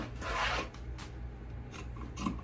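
Scissors snip through fabric while a bralette pattern is cut, giving a few quiet, raspy cutting strokes in short bursts with pauses between them, close by and without speech.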